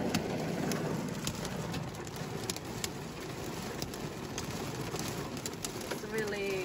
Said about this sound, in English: It's really pouring so hard.